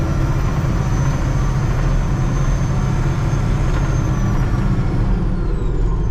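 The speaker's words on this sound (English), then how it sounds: "Ain't nothing like Caterpillar engine." Caterpillar 966D wheel loader diesel engine running, a loud continuous rumbling drone with a faint high whine on top, steady and close for the whole stretch.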